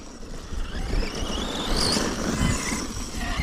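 An electric motorbike's motor spins hard after running warm, geared with a 16-tooth sprocket; a steady high whine rides over continuous rushing wind and road noise, fairly close and even throughout.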